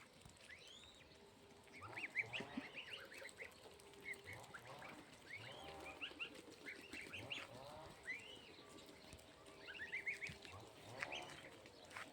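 Three-week-old goslings peep and chirp in scattered high calls, faint and somewhat distant, with occasional louder clusters over a quiet background.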